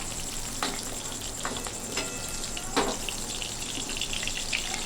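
Soybean chunks deep frying in hot oil for a chilli soybean dish, giving a steady broadband sizzle with a few louder crackling bursts and stirring scrapes, close and continuous, with no talking.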